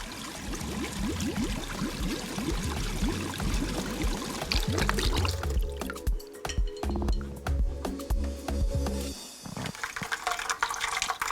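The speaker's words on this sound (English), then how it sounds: "Remove from heat and immediately pour through the sieve into the bowl." Thick butterscotch custard of caramel and cream, just off the heat, pours through a metal sieve into a bowl, with close wet splattering and trickling, clinks of utensils and a few sharper knocks near the end.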